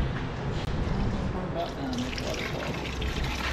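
Old fuel drains from a John Deere 455G crawler loader, a steady splashing, trickling pour of liquid, close and continuous, with faint voices talking in the background.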